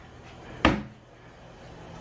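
A wooden drawer in a Disney World Coronado Springs hotel room thuds shut once, a single sharp close knock fading quickly into quiet room tone.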